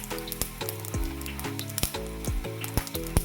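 Bay leaves for matki usal dropped into hot oil with cumin and a pinch of hing, giving a steady close sizzle with background music playing throughout.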